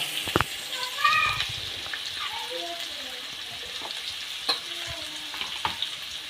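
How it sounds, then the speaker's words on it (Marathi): Onion frying in a pan until reddish-brown for a dry crab curry, a soft steady sizzle with occasional scraping stirs, while a voice talks intermittently over it. "कांदा टा टाकून भाजून घ्यायचं आपल्याला तांबडसर होईपर्यंत"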